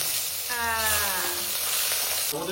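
Onions fry in a hot pan with a dense, continuous sizzle that stays close and steady throughout, and a brief whistling tone rises faintly above the crackle.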